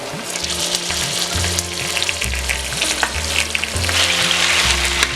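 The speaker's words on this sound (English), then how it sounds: "Fry on medium to low heat for 10 minutes until both sides are golden brown" Lamb shanks frying with whole spices in a pan over medium-low heat, a dense continuous sizzle close up over a low steady hum, with occasional spatula clicks and no talking.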